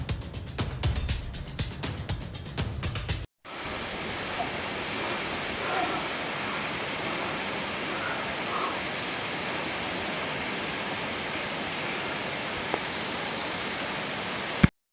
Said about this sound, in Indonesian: Air terjun sudah kelihatan.